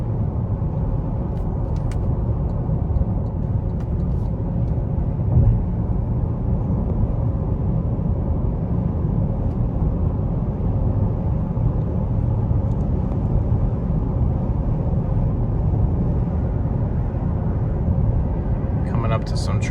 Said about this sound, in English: you can definitely hear the road more in this car for sure